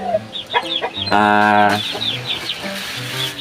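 One-month-old chicks, hungry, chirp and peep in a string of short, close calls with a longer, louder cheep in the middle, mixed with faint clucking and no talking.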